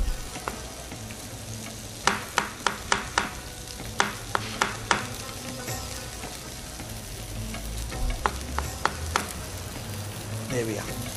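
Thinly sliced mushrooms fry in a pan for fillet medallions, giving a soft, steady sizzle with a series of sharp utensil clicks and taps against the pan at close range.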